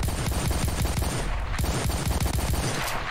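A heavy machine gun in the video game Ravenfield fires continuously in dense, rapid bursts, loud and close, with thumping low-end shots rattling without pause.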